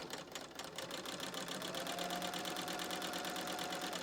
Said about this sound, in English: Once we make changes on the machine, it has to kind of readjust the mechanisms to that stitch.